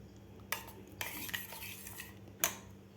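A spoon stirs cooked raw mango in a pan, making soft scraping and a few sharp metallic clinks against the rim over a faint steady background.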